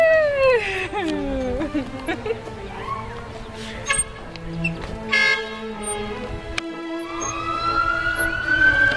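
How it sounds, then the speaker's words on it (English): Fire truck sirens sounded playfully at a kids' fun day in a park, with rising and falling wails and short horn toots mixed over nearby children's and adults' voices and general outdoor crowd noise. "They're just playing with the sirens."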